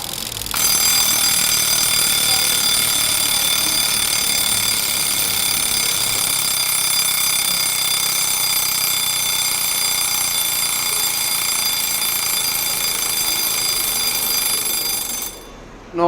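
A mechanical alarm clock bell rings in a watchmaker's workshop, a loud, continuous metallic clatter that runs steadily for about fifteen seconds before cutting off abruptly.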